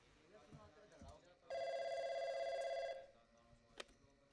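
A telephone rings with a steady electronic tone lasting about a second and a half, rising clearly above a background of quiet voices and room noise.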